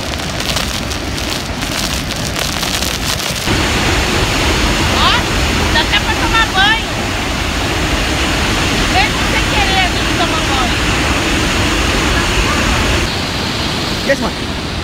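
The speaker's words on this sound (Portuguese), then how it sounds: "A quantidade de água que vem é muito forte." Heavy rushing water thunders at Iguazu Falls, a loud, steady roar of spray and wind that fills the whole scene and never lets up.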